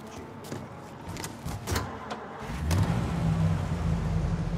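Car engine from the video game Mafia: Definitive Edition, set in Lost Heaven, idling with a few door-like knocks before the motor revs up and drives off, steady and close, with no talk.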